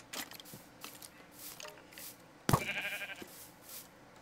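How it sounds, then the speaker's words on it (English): A single short sheep bleat in Minecraft cuts in sharply amid faint background game noise, loud and close, with scattered softer clicks before it. "Get out of my way, sheep!"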